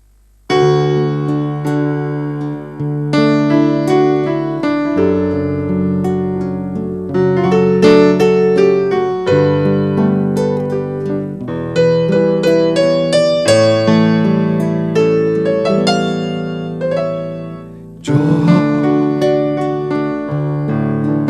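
A live guarania performed at a gentle, swaying pace, with rich sustained chords and melody and brief pauses between phrases.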